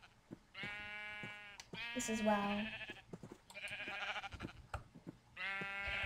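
Bleats from sheep in the Minecraft video game, several separate cries that alternate and overlap with a person talking excitedly.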